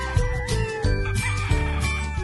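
Gamecock chickens cluck loudly and close by in short repeated bursts over a steady tonal hum, with no voices.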